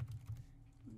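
Keys tapped on a computer keyboard while entering a web address, a short close burst of soft clicks in the first half that fades into quiet room tone.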